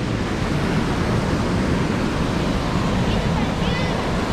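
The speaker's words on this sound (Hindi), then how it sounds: "वो उधर वाटरफॉल आ रहा है" Randha Falls waterfall at Bhandardara, a loud, steady roar of rushing water close by, broadband and unbroken throughout.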